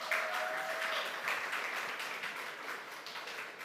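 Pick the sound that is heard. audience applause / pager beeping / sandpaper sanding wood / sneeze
audience applause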